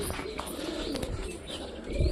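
A pigeon coos in soft, low murmurs over a couple of seconds, with faint background noise around it.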